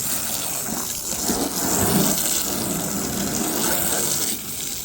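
A steady hose spray of water gushes over a car and rinses the soap from its body, a loud continuous hiss with slight surges and no voices.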